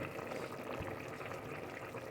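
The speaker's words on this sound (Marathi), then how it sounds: "छान उकाळा पण आला आहे, उकळी पण आली आहे" A pot of Konkan-style jackfruit vegetable curry bubbling at a steady boil, a soft continuous simmering hiss with faint bursting bubbles, heard alone and fairly quiet.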